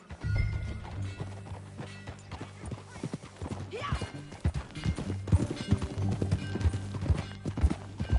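Horse hooves clip-clop steadily on a ridden horse in the Red Dead Redemption video game, a continuous rhythmic trot under ambient game sound, with a brief spoken word.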